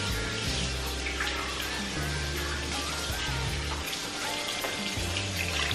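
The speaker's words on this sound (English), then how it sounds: "keep on adding your hot water. I add about a cup of hot water each time." Hot water streams steadily into a pot of Jamaican oxtail stew, a loud, continuous close-up pour with gurgling and faint sizzle, running unbroken with no talking.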